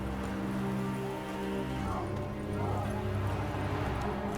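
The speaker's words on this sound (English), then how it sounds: "It's about time I got on my horse." Hooves of a horse in The Witcher 3 clip-clop at a steady gait in a video game, set against ambient game sound, with faint rain-like texture and a continuous background bed throughout.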